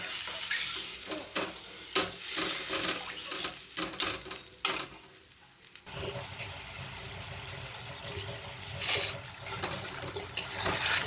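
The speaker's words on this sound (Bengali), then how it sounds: "এবার আমি সামান্য পরিমাণে জল দেব, বেশি দেব না, অল্পই।" Egg curry simmering in a pan with spoon scrapes and clatter, then a splash of water poured in and a hissing, bubbling sizzle that settles into steady frying.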